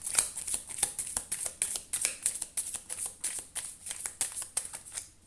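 Romance angel oracle cards being shuffled by hand, a steady run of crisp papery riffles and flicks repeating close up, with no talking over them.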